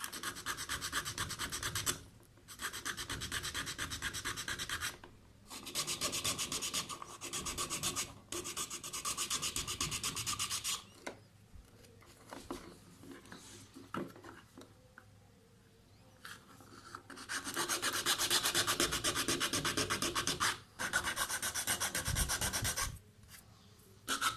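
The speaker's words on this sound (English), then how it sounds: "I'm going to grind the surface on each and every angle" An action camera casing has its surface ground at each angle, giving repeated rasping, scraping strokes in bursts separated by short pauses. The strokes are close and moderately loud, and there is no talk.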